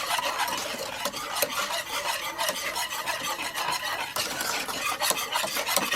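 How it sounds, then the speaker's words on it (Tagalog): A spoon or whisk stirs vanilla through a cake mixture in a bowl, giving a steady close-up scraping and swishing with no talking. "Then, itong vanilla. I-mix natin."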